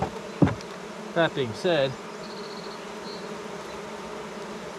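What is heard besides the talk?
honeybees buzzing around a nuc hive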